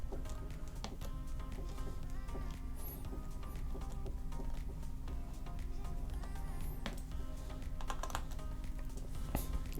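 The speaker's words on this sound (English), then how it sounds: "go ahead and close up the MacBook like so, and go ahead and tighten these screws up" Screws tightened with a small screwdriver into the bottom case of a 13-inch MacBook Air 2018 after a screen replacement: dense, rapid tiny clicks and ticks, continuous and close.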